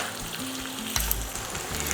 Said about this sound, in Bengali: ঘি যখন গরম হয়ে গিয়েছে ঠিক সেই সময় দিয়ে দিচ্ছি জুলিয়ান করে কাটা আদা, আর সাথে সাথে দিয়ে দিচ্ছি রসুন কুচি